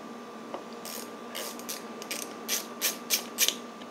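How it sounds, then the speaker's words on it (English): A ratchet undoes nuts on the fork of a Yamaha DT175 motorcycle, heard up close as short bursts of quick clicking that grow louder and more rapid toward the end. "Also got to undo these nuts under here."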